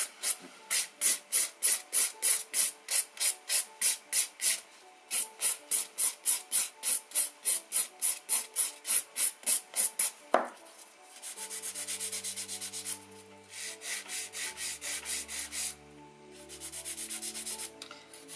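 An acrylic stiletto nail is filed in a fast run of even, regular rasping strokes, then a brief knock gives way to a softer, steadier buffing rub in longer passes, close and alone.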